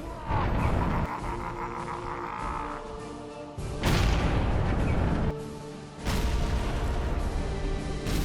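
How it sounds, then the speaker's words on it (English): The Stomper's belly cannon fires in Warhammer 40,000: Kill Team, heavy booming blasts landing in bursts over a dense, rumbling battle din with no voices, each impact a loud, close explosion. "The Stomper has a belly cannon."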